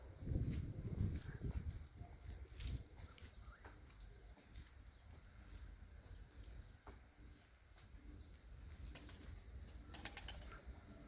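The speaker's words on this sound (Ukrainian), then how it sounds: "Ніколаївська птиця." Soft, low cooing of Mykolaiv pigeons over a quiet outdoor background, with scattered faint rustles and clicks.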